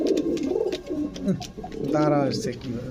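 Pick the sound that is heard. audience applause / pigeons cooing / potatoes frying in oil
pigeons cooing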